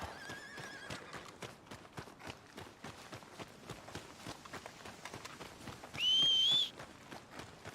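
Horse hooves clip-clop at a running pace in Red Dead Redemption 2, steady and rhythmic, with a brief high whistle-like whinny partway through.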